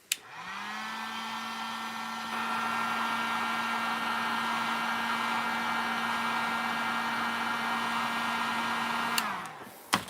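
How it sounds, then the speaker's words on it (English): A heat gun blows hot air. Its motor spins up with a rising whine into a loud, steady, close whir with a droning tone, runs for about nine seconds, then winds down and clicks off. "Here's a heat gun."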